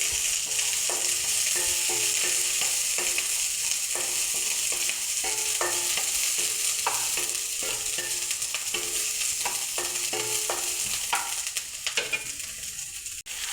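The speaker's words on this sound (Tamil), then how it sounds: "பொடி வெங்காயத்தை ரெண்டாக வதக்கி நல்லா வதக்கிக்கலாம்" Chopped onion sautés in a pan, giving a steady broadband sizzle with a long run of stirring scrapes and clicks from a spoon, close and fairly loud, ending abruptly.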